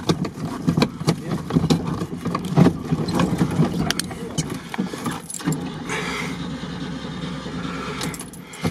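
A ZAZ-965 engine cranked on the starter while the car is pushed and rolled during a drift attempt, giving a continuous loud rough churning and grinding with scattered knocks and squeals.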